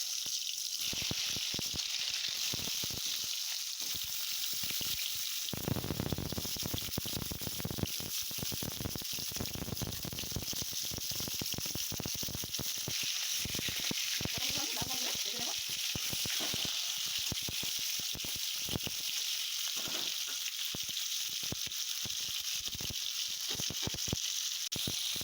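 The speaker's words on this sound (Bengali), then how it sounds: "বন্ধুরা, পটল আমার ভাজা হোক" Pointed gourd (potol) frying in oil for a village-style Bengali posto dish, a steady broad sizzle running the whole time with scattered clicks and bumps of handling, no talk over it.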